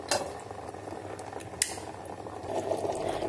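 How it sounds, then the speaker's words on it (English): Water boils with okra (bhindi) masala inside an electric kettle, giving a steady, close bubbling and simmering wash with a few brief sharper pops and clinks. "Let the water get boiled, okay?"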